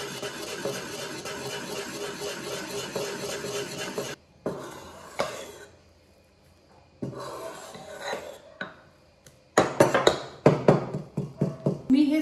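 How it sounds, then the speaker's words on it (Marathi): Konkani sandhan breakfast batter being mixed in a bowl, bursts of close scraping and stirring with a spoon, broken by pauses, with a person speaking between them. "आणि हे छान एकत्र मिक्स करून घेऊया।"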